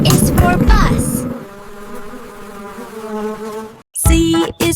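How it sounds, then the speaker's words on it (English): Buzzing of a bee, a sustained droning hum heard close and fairly loud for a few seconds, with brief bursts of other sound before and after it. "B is for bee."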